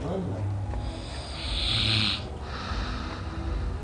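A sleeping man snores in deep, rasping breaths close to the mic, with a snorting inhale in the middle. Quiet voices talk over it.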